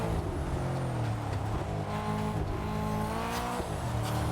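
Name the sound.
car accelerating in video game TDU: Solar Crown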